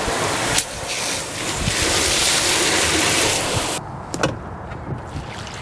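Water rushes steadily out of a container being rinsed for compost tea in a garden, a loud continuous splashing gush that cuts off sharply, followed by a few quieter drips and knocks.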